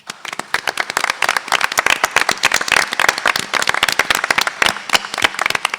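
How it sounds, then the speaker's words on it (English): Lively applause from a room full of people, dense rapid clapping that stays strong for several seconds before tapering slightly. "give them a very quick round of applause"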